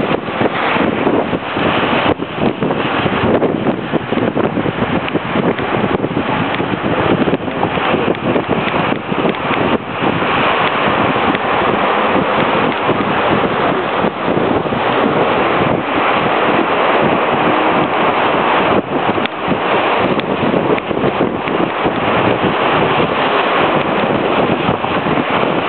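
River rapids on the Urubamba river in Peru, a loud, constant roar of rushing whitewater filling the whole stretch, with heavy wind buffeting the microphone throughout.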